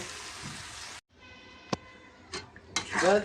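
Spice paste for beef tripe bhuna stirred and fried in a pot, a soft background sizzle broken by a brief pause, then sharp clinks and scrapes of a spoon against the pot, growing louder toward the end.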